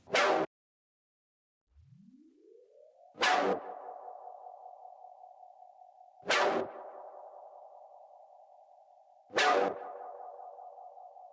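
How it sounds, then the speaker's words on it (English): A synthesizer plays alone: four sharp, evenly spaced stabs, each followed by a long sustained tone that rises into pitch and lingers with a slight tape echo, fairly loud with no talking. "So here's the synth by itself."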